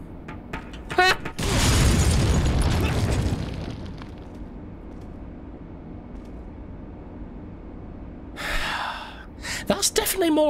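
A frag grenade goes off in Resident Evil 4 with a loud, booming burst that rumbles and fades over a couple of seconds, followed by quieter game sounds and a few short sharp noises near the end.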